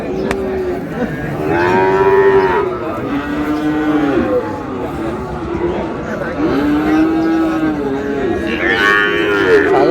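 Young bulls moo repeatedly in long, low, drawn-out calls, close and loud, over a constant farmyard background with faint voices.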